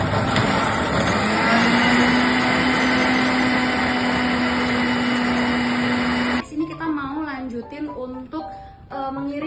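An electric spice grinder whirs loudly and steadily with a rising motor whine for about six seconds, then cuts off abruptly, leaving someone talking in Indonesian over the room.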